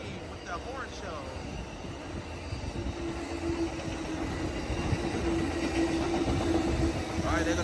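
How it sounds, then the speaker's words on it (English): Amtrak Coast Starlight train with P42 locomotives passing Oakland Coliseum station, a steady rumbling roar with wheel clatter building over several seconds, with people talking over it. "Alright, there go that train. That train is on its way to Seattle."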